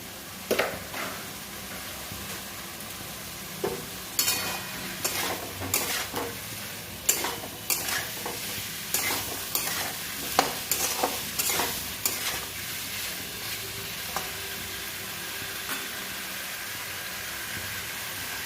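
Vegetables frying in a pan with water and salt, stirred repeatedly with a utensil, giving a steady close sizzle broken by clattering scrapes and knocks against the pan.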